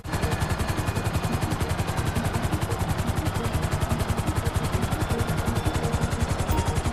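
Helicopter hovering in Grand Theft Auto V, a loud steady rotor chop with rapid even pulses throughout, alone with no talking.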